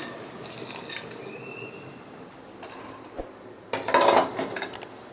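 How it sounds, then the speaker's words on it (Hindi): Crushed ice drops into a jug in a home kitchen, with light clinks early on and a louder burst of rattling, clattering pieces toward the end, close and without speech. "हमने यहाँ पे लिया है जग और इसके अंदर हम डालेंगे बर्फ़"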